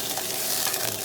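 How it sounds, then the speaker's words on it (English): Chopped tomatoes stirred in a frying pan over medium-high heat, a continuous close, hissy sizzle with soft scraping under it and no talking. "Again, give that another stir."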